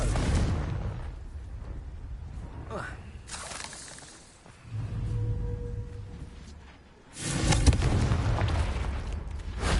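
Blasts from the Confringo spell in the Hogwarts Legacy video game: a few loud explosive bursts separated by quieter stretches, with a voice heard in between.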